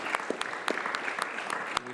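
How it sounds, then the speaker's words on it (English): Scattered clapping from a small audience at a physics panel talk, with a few sharp individual claps standing out over a steady patter of hands. "Give a big round of applause to our panel tonight"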